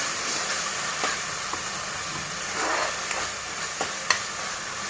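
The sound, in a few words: ginger garlic paste frying in oil on high heat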